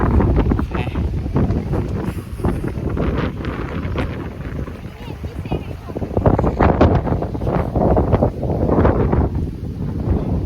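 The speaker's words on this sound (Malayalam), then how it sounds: "കാറ്റ് നല്ല കാറ്റാണ് നല്ല കാറ്റാണ്" Steady wind buffets the microphone throughout at a viewpoint in Kollengode, Palakkad, Kerala, a loud roaring rush with gusts, while people talk underneath.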